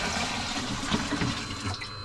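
Water gushes steadily into a boat bilge to flood it for a bilge pump test, a continuous close splashing pour with no voices.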